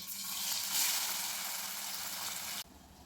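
Tomatoes hitting garlic already browned in a hot pan set off a loud, steady broadband sizzle and hiss that runs close up and then drops sharply in level near the end, with no one speaking.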